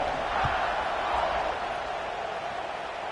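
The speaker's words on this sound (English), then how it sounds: "this crowd is buzzing after that last score" Steady crowd roar fills a stadium in a college football video game, Alabama versus Georgia, a continuous broadband buzz held at even loudness through the whole stretch after a kickoff-ready extra point, with no voices on top.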